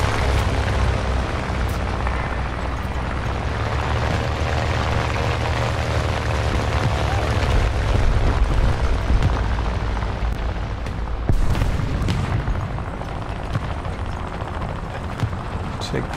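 Constant heavy rumble of gunfire and artillery shots in War Thunder ground realistic battle with an LVT, dense and continuous with a sharp blast near the end.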